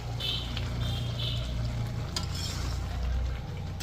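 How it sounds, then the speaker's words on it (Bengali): Chicken stirs and sautés in onion gravy in a pan, making a continuous close sizzle with a scraping spoon and a steady low hum underneath. "চলো ভালো করে কষিয়ে নিই"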